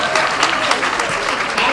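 Audience clapping at a National Council of Negro Women awards event, a dense, steady burst of hands across the hall, loud and continuous, with a voice talking faintly underneath.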